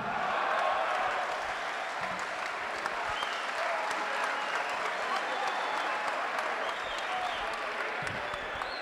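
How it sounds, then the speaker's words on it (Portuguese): Crowd applause at an RRPL rap battle between Angola and Mozambique, dense continuous clapping that holds at a steady, fairly loud level for the whole stretch. "Obrigado pelas palmas."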